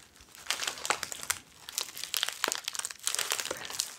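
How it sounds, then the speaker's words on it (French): Plastic bubble wrap crinkles and crackles up close while a subscription box is unpacked, coming in irregular bursts of rustling with short pauses. "c'est le papier bulle qui donne ce petit son très agréable"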